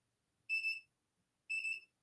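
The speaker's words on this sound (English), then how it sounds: "my desk is beeping" Two short, clean electronic beeps from a desk, spaced about a second apart, fairly faint against near silence.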